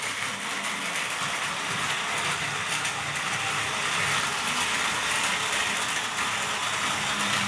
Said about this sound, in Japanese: 列車を走行させてみます。